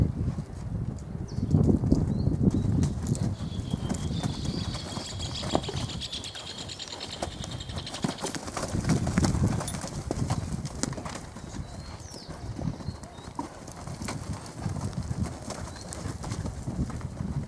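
Hooves of a bay roan quarter horse clip-clop steadily on the ground while it pushes and works cattle in a ranch setting, with birds cooing around it and occasional faint voices.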